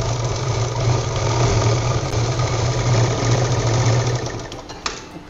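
A sewing machine runs steadily as it stitches the bottom pieces of a handmade purse together, a continuous close mechanical whir lasting several seconds before slowing and stopping near the end.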